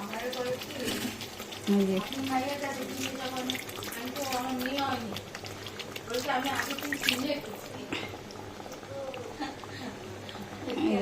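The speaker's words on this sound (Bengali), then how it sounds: "জল দিয়ে দিলাম।" Water runs and splashes into a pan of bhola fish curry, a steady close pour beneath someone talking over it.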